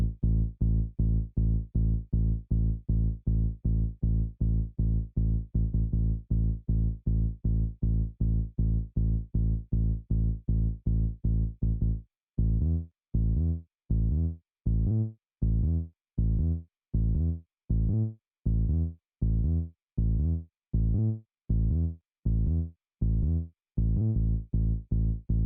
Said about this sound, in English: And this is the bass by itself.